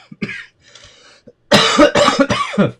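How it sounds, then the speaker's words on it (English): A few scattered coughs at first, then a burst of three or four loud, harsh coughs close to the listener in quick succession. "Oh, I'm so sick of this coughing."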